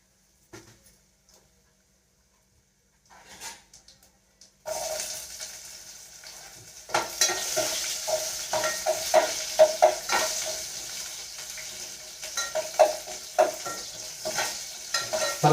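Peanuts and onion fry in a pan, giving a steady sizzle, with scraping and stirring strokes that grow busier after a quiet start.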